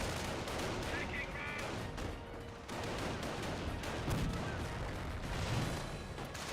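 Battlefield din in Company of Heroes, with continuous overlapping rifle and machine-gun fire and thudding mortar blasts rolling together in a dense, steady wash at moderate distance.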